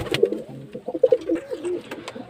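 Pigeons coo in a loft where hens sit on eggs, giving soft, throaty, rolling calls that overlap close by, with no talking.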